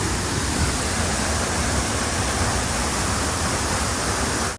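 Kappimala waterfall pours down with great force, a loud, unbroken roar of rushing water filling the whole clip, close and steady, cutting off abruptly at the end.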